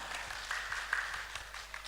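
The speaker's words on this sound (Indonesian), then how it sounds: "Tepuk tangan untuk kita semua." An audience at a regional cultural week event in Indonesia applauds, with faint, distant clapping spread evenly through the short stretch.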